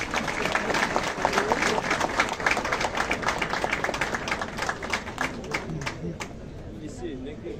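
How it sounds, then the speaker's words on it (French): Audience applause at a police academy graduation ceremony for the 34th promotion, a dense steady clapping crowd that fades toward the end, with speech mixed in. "Sous vos applaudissements, s'il vous plaît."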